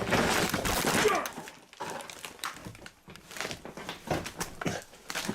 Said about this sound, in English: Well, I just fell through the floor.